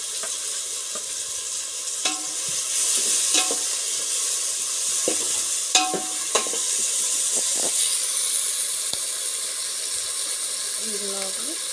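Peanuts fry in a pan, giving a steady bright sizzle and hiss with scattered clinks and scrapes of stirring over about twelve seconds, with no talk over it.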